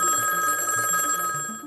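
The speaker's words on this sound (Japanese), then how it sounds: "そんな時、劉の自宅に一本の電話が入る" A home telephone rings with a bright, trilling electronic bell that repeats rapidly for under two seconds, loud and close, with no voices.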